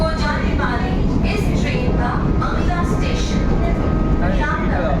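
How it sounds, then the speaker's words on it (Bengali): Inside an AC passenger train on the move, a loud steady rumble of wheels and carriage noise fills the whole stretch while voices carry over it. "এসি ট্রেনটা।"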